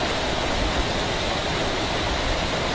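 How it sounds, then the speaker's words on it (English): A creek beside a path near Bachelors Grove Cemetery rushes in a steady, broad, unbroken hiss of flowing water. "coming down this path toward the creek that's behind me here"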